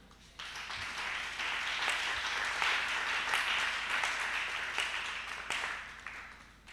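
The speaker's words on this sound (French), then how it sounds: "On acclame le Seigneur." A church congregation bursts into sustained applause to acclaim the Lord: dense, steady clapping from many hands that builds quickly and holds for several seconds.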